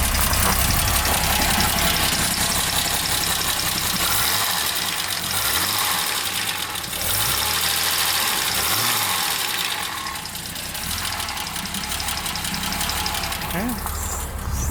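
A classic daily-driver car engine idles steadily with a slight surging as its choke turns off, a loud continuous rumble with broadband hiss close by.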